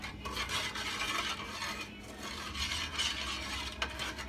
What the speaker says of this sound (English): I like to give it a stir because it's got all that sugar in the bottom.